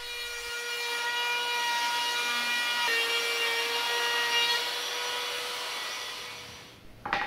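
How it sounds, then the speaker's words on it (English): A trim router fitted with a round over bit rounds a wooden edge with a steady high whine for about six seconds, then stops with a brief clatter at the end. "rounding over the front edge with a round over bit on the trim router"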